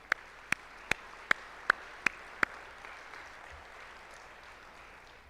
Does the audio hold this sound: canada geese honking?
no